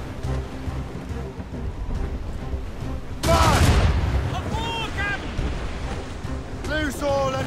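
A cannon volley breaks out during a naval battle cutscene in Assassin's Creed Rogue, a sudden heavy boom over constant sea and wind noise, with shouting voices and creaking afterward.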